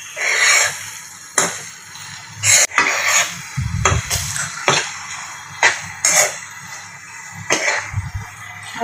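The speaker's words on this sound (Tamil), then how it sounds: "ஒரு 2 மினிட்ஸ் மட்டும் நல்லா பரட்டி விடுங்க." A spoon stirs a coconut burfi mixture of sugar and grated coconut in a pan, producing repeated close, rhythmic scraping strokes with occasional dull knocks against the metal.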